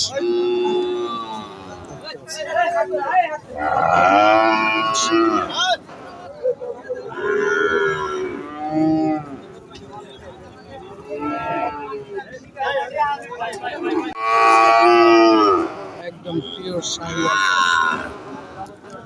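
Sahiwal breed bulls at a cattle market give repeated loud, drawn-out moos, one after another, close by, with market background noise between the calls.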